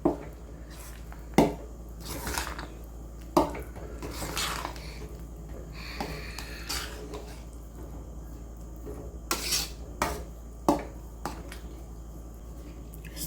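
A ladle stirs cooked rice into palak dal khichdi in a pot, giving soft squishing with sharp clinks and knocks against the metal rim at irregular intervals, close by and moderately loud.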